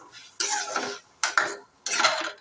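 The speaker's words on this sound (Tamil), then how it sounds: "இது நல்லா கிண்டிடுங்க" Three bursts of scraping and clinking from a utensil stirring pasta in a pan, each lasting under a second with short pauses between.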